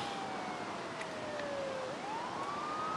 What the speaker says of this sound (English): That'll be the ambulance.